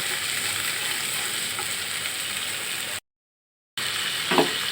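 Spice paste sautéing with koi fish in a pan with oil, a steady broadband sizzle with light stirring, broken by a short silent gap before the frying resumes with a brief scrape.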